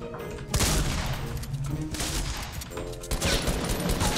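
Rapid gunfire in the video game Fortnite, loud overlapping bursts of shots that continue nearly the whole time, close and busy, with faint talking underneath.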